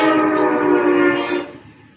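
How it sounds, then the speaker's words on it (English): Magic Kingdom railroad train at the park, a steady tonal whistle-like horn blast holding for over a second before fading out, heard alone without talk. "Go riding the train."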